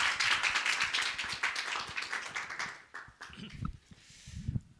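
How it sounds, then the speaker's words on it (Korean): Congregation applause welcoming a pastor to the front of a Korean church service, a dense burst of clapping that thins out after a few seconds into scattered claps and shuffling. "우리 목사님 박수로 환영하겠습니다"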